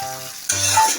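Fried beans with blended shrimp sizzle in a pan as they are stirred, a brief burst of scraping and frying noise, close and loud, with no talk.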